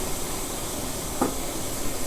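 Steam hisses steadily from an idli steaming pot cooking gooseberries, a constant soft broadband rush with a faint tap partway through the short stretch.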